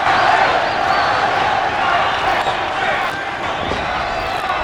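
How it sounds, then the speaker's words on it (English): Arena fans at the Paez–Spann boxing bout keep up a loud, continuous chant for Jorge Paez, the dense crowd noise easing slightly toward the end. "Crowd again chanting for Jorge Paez"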